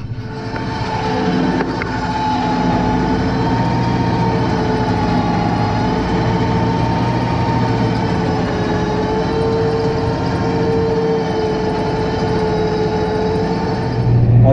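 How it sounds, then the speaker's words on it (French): A small tractor's engine settles to a steady, loud idle after the power take-off driving a rotary harrow disengages during soil preparation for planting garlic. The drone is continuous and low, with no voices. "prise de force s'arrête et le régime moteur se remet au ralenti"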